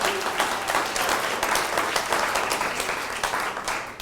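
Audience applause fills a hall after a talk at an Orthodox Jewish center for Christian dialogue, a steady, dense wash of many hands clapping at even loudness throughout.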